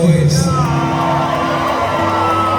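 Concert crowd cheering and whooping loudly, a dense wash of shouts and high whoops with music or a sustained tone underneath, continuous for a few seconds.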